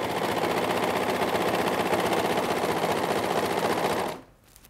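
A sewing machine stitching elastic onto leggings, a fast continuous mechanical rattle running steadily and close for about four seconds before stopping abruptly.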